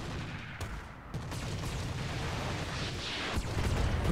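Gunfire in the video game Roguepoint crackles in a dense, continuous barrage of shots and booms, loud and close, with no pauses.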